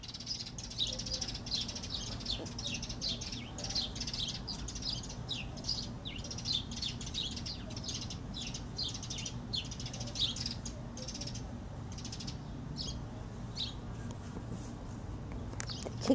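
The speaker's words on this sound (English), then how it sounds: "Wanted y'all to hear the sparrows sing." Sparrows singing outdoors in summer, a steady stream of bright chirps and trills at moderate distance over a low continuous background hum, with no talking.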